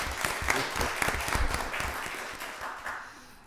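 Attendees at a county board of commissioners meeting give a round of applause, moderately loud at first and tapering gradually as the clapping thins out.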